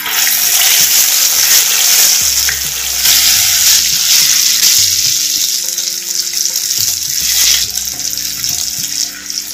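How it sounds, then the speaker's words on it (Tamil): Masala-marinated beef fries in hot oil in a clay pan, a loud, steady close-up sizzle with crackling bursts and a few scraping knocks underneath. "ஒரு நிமிஷம் நல்லா எண்ணெயில் நல்லா ஃப்ரை ஆகட்டும்."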